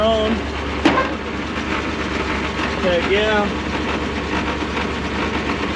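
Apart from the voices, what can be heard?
antique tow truck engine idling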